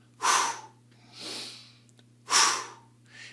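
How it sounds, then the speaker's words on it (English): Fire breathing exercise: sharp, forceful breaths alternate between nasal inhales and mouth exhales, four strong whooshing breaths in a steady rhythm, close and loud, over a faint low hum. "we're going to do something called fire breathing. And it goes like this. You inhale through the nose. You exhale through the mouth."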